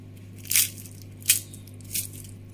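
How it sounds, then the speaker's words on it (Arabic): Three crisp crunches of fried boureki pastry being bitten or broken, spaced about a second apart, close and fairly loud over a low steady hum. "يجي محمر ويجي مقرمش، ودوك تسمعوا قرمشه"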